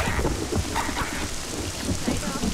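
Heavy rain pours down in a dense, steady roar that stays loud and unbroken from start to finish, with no speech.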